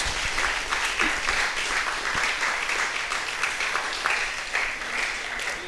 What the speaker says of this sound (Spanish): Prende un aplauso al Señor.